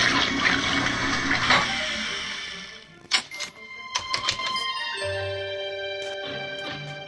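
A machine in the Return to Grisly Manor video game washes a sock with water, giving a sloshing, flushing rush that fades, then a few clicks and chimes before a steady mechanical hum with tonal beeps.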